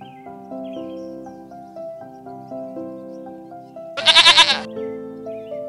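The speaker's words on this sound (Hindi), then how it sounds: "मैं हूँ बकरी और आप मुझे खेत पर हमेशा घास चरते हुए पाओगे।" A goat gives one loud, wavering bleat lasting under a second, rising clearly above steady melodic background music in a children's animal-learning setting.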